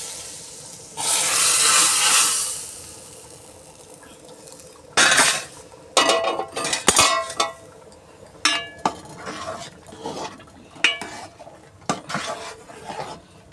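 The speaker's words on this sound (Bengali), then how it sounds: "এটা তড়কা প্যানে ভেজে হাঁড়ির মধ্যে দিয়ে দেবো" Hot ghee tempering from a tadka pan poured into a pot of cooking khichuri: a loud sizzling hiss for a couple of seconds, then scattered metallic clinks and scrapes of a spoon against the pot.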